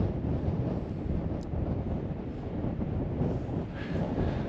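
Strong gusting wind on a mountain summit in the Lake District, a continuous heavy roar buffeting the microphone for several seconds with no voices.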